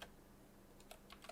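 Keys on a computer keyboard are tapped in a soft, irregular run of quiet clicks, faint and close, with no voices.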